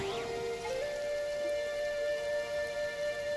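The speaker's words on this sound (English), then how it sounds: "Taking shelter and listening to the rain cleanse the earth makes me feel safe." Light rain patters evenly in Genshin Impact, a soft steady hiss under sustained musical tones, continuing without pause.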